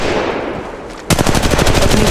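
Automatic gunfire in Apex Legends Mobile: after a second of low background noise, a loud, rapid burst of machine-gun shots rattles continuously to the end.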